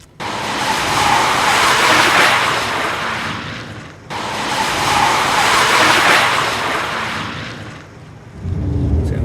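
A Pontiac G6 on Goodyear tires spinning and braking hard, heard as two long, loud roaring swells of tire and road noise, each fading before a fresh burst, with no speech.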